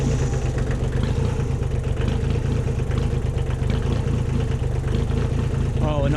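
A Kubota L235DT tractor engine idles steadily with a loud, close, even diesel rumble throughout. No distinct start-up is heard.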